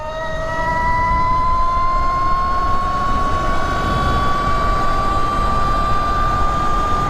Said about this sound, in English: Let's turn on this turbo button. All right, we're in turbo.